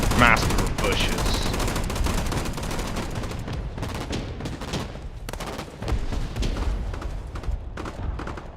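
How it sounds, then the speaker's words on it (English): An autocannon firing in the video game Broken Arrow: dense, continuous bursts of rapid heavy fire with booming impacts throughout, loud and up front, with faint voices underneath at times. "So it's just an autocannon, basically"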